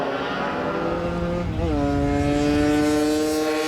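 A racing scooter's small engine holds a steady, loud buzzing drone, then revs and shifts pitch partway through, close and continuous with no voices.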